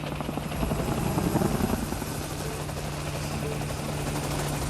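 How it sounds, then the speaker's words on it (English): Green helicopter-like flying machines in a Russian fantasy film give off a loud, continuous rotor whir with a steady low hum, with no talk over it. "they find these weird green, like, helicopter type things, but they're not really actually helicopters"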